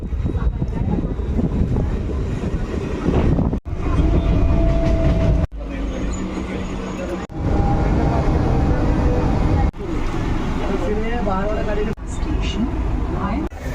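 An express train rumbles and clatters past, loud and continuous, with wind buffeting the microphone and people talking over it.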